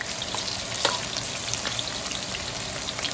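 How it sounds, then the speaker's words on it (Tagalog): Onion added to garlic already sautéing in a pan for a simple home dinner, a dense continuous sizzle with faint crackles and the odd tap, close and steady, no speech. "Pagkatapos pong magisa ng ating bawang, syempre, sunod na natin yung ating sibuyas."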